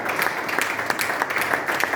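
Applause from a church congregation at a New Year's Day Sunday service in Brussels, steady dense clapping with a few louder hands standing out, continuous for two seconds with faint voices mixed in.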